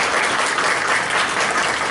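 A board meeting audience gives a short, full burst of steady applause, with dense clapping filling the room.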